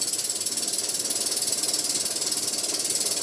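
An electric motor driven forward by an Invertek variable frequency drive, ramping up to 100 Hz: a steady high-pitched electrical whine with a fast, even mechanical ripple underneath, continuous and moderately loud, no talking.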